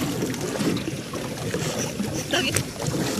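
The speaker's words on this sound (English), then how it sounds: "It's time for the canoe race." Canoes racing along the Amazon River in an indigenous tribal games event, with a steady wash of paddles and water against a broad, windy outdoor background, no talk.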